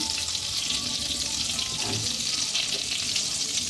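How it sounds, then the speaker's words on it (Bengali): Mustard oil sizzling in a hot pan, a loud, steady, bright frying hiss that carries on without a break and no voices over it. "একটু সরষের তেল দিয়ে দিলাম"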